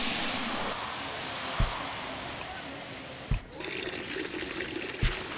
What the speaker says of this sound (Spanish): Concéntrate en mezclar la harina con el agua.